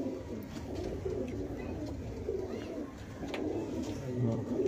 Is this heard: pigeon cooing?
yes